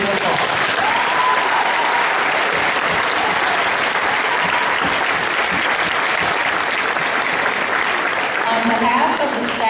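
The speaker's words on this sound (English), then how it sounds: "Let's give these students one more round of applause." Loud, continuous applause fills the hall at Northeast Middle School's graduation ceremony as the audience claps for the graduating students, with crowd voices faintly mixed into the clapping.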